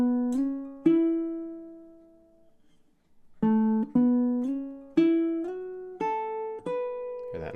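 A baritone ukulele plays two measures of a fingerpicked riff: a few plucked notes, a short pause, then a run of evenly spaced picked notes that ring out clearly, recorded close with no voice.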